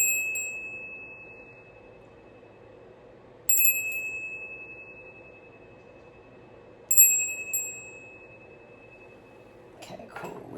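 A small bell rung to clear the energy before a tarot reading gives three bright, ringing strikes a few seconds apart. Each one sustains and fades slowly in a quiet room, and a soft rustle follows the last.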